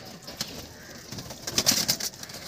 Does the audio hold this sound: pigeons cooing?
yes